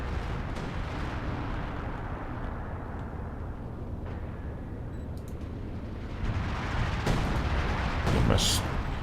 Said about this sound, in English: I hear some artillery.